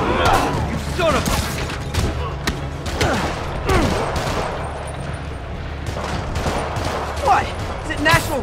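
Rockets fired in Marvel's Spider-Man (2018) burst in rapid, overlapping explosive blasts across the whole stretch, dense and loud, with characters' voices shouting in between.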